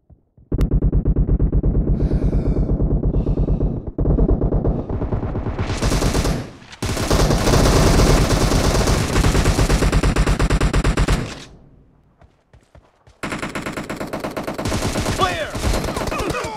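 Sustained loud automatic gunfire in PUBG Mobile, with long rapid bursts broken by short pauses and a near-silent gap before firing resumes, plus scattered game voice lines.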